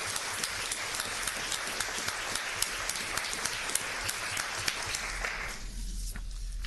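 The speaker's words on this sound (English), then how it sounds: "Let's give them a round of applause." Applause from attendees at a county commissioners court meeting, a fairly faint, continuous patter of clapping with scattered sharper claps, dying away over the final second.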